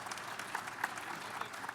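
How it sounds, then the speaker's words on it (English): An audience at a Babson College ePitch pitch competition finale at eMerge Americas claps steadily in a dense round of applause for the judges, heard from within the room. "just wanted to say a big round of applause to our judges as well"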